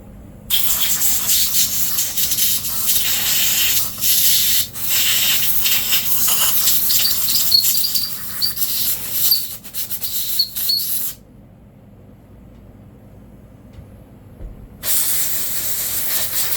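Loud, sustained hiss of compressed air blowing in long bursts with brief dips while cleaning a Stihl MS 180c chainsaw, stopping for a few seconds before resuming.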